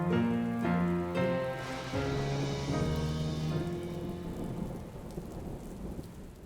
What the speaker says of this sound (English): Recent storms dumped more than 7 inches of rain on the city.